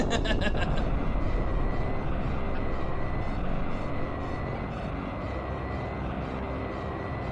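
K. Rool's airplane in the Donkey Kong 64 video game flies away with a steady, broad engine drone that fades a little toward the end, with no voices over it.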